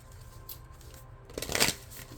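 Tarot cards being shuffled, a quiet riffling patter that builds into a brief, crisp flurry of shuffling, close up.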